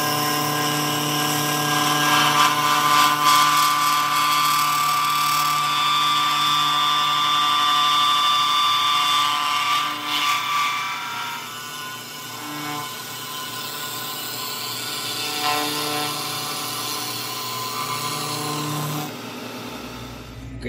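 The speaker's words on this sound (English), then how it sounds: "So I'm gonna put it on my CNC and take the scale off." A CNC mill machining forge scale off a Damascus billet made from an old timing chain, a steady high-pitched whine with a constant motor drone, shifting in tone as the cutter works, then easing near the end.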